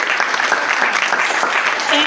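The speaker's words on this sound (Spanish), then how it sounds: "Dale un aplauso al Señor." A church congregation applauds loudly and steadily, a thick continuous wash of clapping that fills the room, with voices faintly mixed in beneath it.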